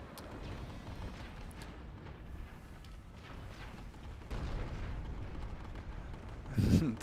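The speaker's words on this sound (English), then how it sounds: "The fireworks are just going off." Explosions from the online shooter PlanetSide 2 rumble and boom in a dense, continuous battle din, with a sharper, louder blast near the end of the stretch; a voice talks briefly under the noise.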